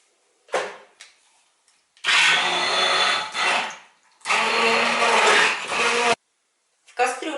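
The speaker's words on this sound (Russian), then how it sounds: "Кусочки манго нужно будет хорошенько пропюрировать." A blender purees mango pieces, whirring in several bursts: a short pulse, then two long loud runs with pauses between, and another start at the end.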